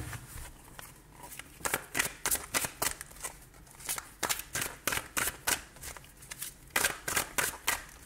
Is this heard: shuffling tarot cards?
yes